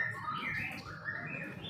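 A white-rumped shama (murai batu) sings in varied, sliding whistled phrases, fairly close and steady, with no talk over it.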